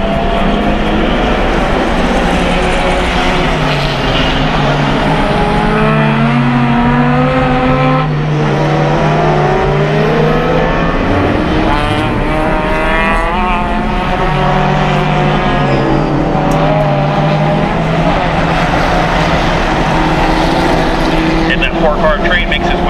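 Closed-wheel race cars in a B-Spec race roar and rev continuously through the turns, pitch rising and falling as they accelerate and brake, with an announcer talking over them throughout.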